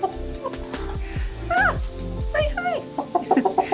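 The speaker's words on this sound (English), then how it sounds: "There's my chicken." A pet chicken clucks close by in a few short bursts, with quiet mixed voices around it; later the calls come in a quick rhythmic run of clucks.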